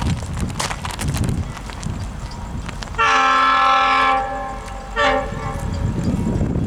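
A train horn sounds at a railroad crossing with incandescent gate lights as the train approaches, a loud sustained blast about a second long followed by a shorter second blast over rumbling track noise.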